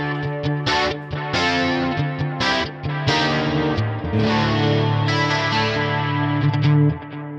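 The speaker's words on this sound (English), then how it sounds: "So this is like an 80s edge kind of preset." An electric guitar played through a Neural DSP Nano Cortex on an 80s edge preset, with bright, chorused, echoing chords and picked notes ringing out, trailing a long reverb tail, loud and alone.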